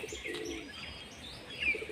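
Pigeons in a small market setting coo softly in short warbling calls with a few chirps, fairly quiet against light background noise.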